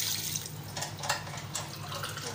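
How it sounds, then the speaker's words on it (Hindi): Water poured from a glass into a pot of mutton and potato curry, a soft splashing trickle with a few brief surges, fairly quiet and close with no voices. "3 ग्लास हम डालेंगे पानी"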